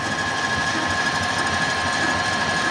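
A lathe takes a light spring pass on a custom motorcycle steering stem for a Dyna Springer chopper build, holding a steady, close machine whine with an even mechanical hum throughout and no talking.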